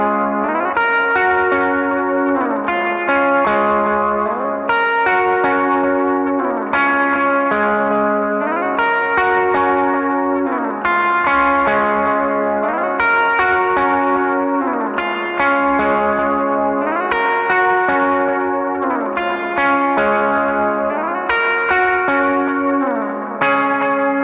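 Effects-laden electric guitar plays the chorus of a song, swapping between two chord shapes in a steady strummed pattern, loud and sustained with echo, chorus and light distortion, no voices.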